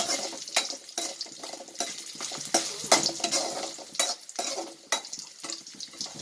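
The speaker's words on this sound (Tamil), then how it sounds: "இறச்சி மீன் தீயல் செய்கிறதுக்கு தேங்காய் நல்லா வதக்கிட்டு அரைச்சோன்னா அது ஒரு வாசமாக இருக்கும்" Grated coconut sautéed in a pan for stingray fish theeyal, with steady sizzling and repeated scraping strokes of a spoon stirring close by, and no voices.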